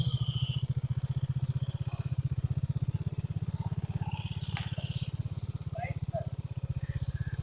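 A motorcycle idles nearby with a steady low engine thrum and fast, regular pulses, while people speak over it on a ride to a hilltop Jain temple.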